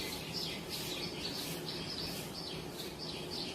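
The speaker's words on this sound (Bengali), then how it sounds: "এই যে একটা ফটিক জল" Repeated bright bird calls, a common iora singing near a drumstick tree beside a house, come in short phrases about every half second against a steady background of other birds and insects, with no talk.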